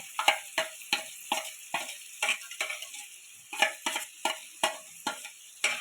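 A paste of cashew, melon seed, poppy seed, cumin and chilli being fried in a pan, rhythmic spatula scrapes repeating about twice a second over a faint sizzle, close and clear.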